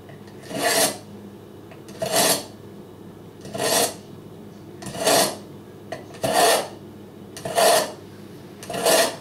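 A Cutco #80 sharpener draws a Cutco cleaver blade through in slow, even rasping strokes, about seven of them, each a gritty scrape separated by short pauses, close and clear.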